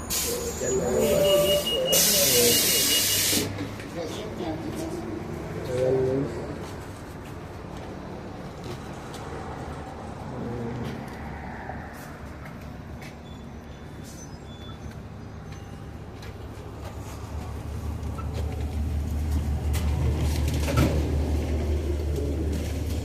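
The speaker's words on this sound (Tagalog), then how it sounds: "Diyan na yung bus." A bus arriving at a roadside stop with a low engine rumble that swells toward the end, hissing bursts early on and a brief voice in the background.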